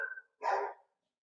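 Dogs bark close by: the tail of one bark is quickly followed by a single sharp, loud bark, then silence.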